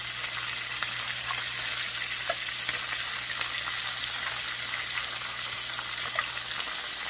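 Apples added to a pan of frying pork chops sizzle steadily, a dense close hiss with small crackles and pops under a low hum, with no talk.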